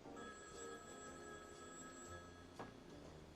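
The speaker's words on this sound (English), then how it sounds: "the phone rings" A telephone ringing indoors at home, faint and distant in the background, its tone running steadily through the moment with no one speaking.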